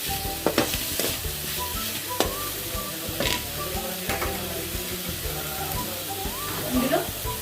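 A spoon stirring ridge gourd flower curry with moong dal in a pan, with a steady sizzle and repeated scraping and clinking strokes, close and moderately loud, with faint talk in the background.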